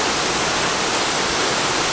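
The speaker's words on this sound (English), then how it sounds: "all the fountains here, they work without any pumps" Fountain water at the Peterhof palace near St Petersburg, Russia, rushes and splashes in a steady, dense roar that fills the whole clip without pause, loud and close, with no voices over it.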